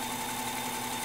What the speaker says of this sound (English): I'm going to run the lathe at around 1400 RPM